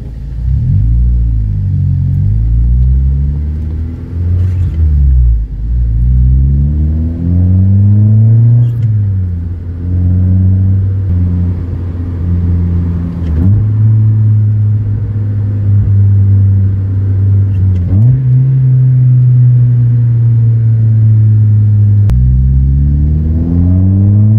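A Mazda Miata fitted with a CX Racing header, heard from inside the cabin, makes loud engine drone through repeated gear pulls. The revs rise and fall in several sweeping cycles, and the low exhaust note stays steady and prominent throughout.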